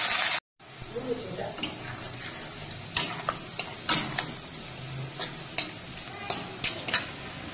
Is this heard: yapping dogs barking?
no